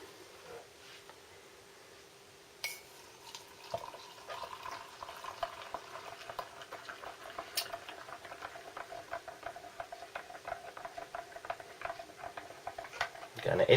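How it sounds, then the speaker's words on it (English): Water is poured onto instant drinking chocolate powder in a large British Army canteen mug, a soft sustained trickle and patter rising in the mug, close and quiet with a brief knock at the start. "We shall add some water to that."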